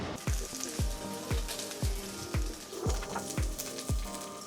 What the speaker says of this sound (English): We'll start by frying our eggplant.